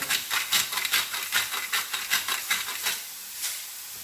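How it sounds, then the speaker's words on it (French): Onions and mushrooms frying in olive oil in a pan, a steady close sizzle with rhythmic scraping surges as they are stirred, no talk. "j'ai fait revenir les oignons avec une cuillère à café d'huile d'olive et j'ai mis les champignons"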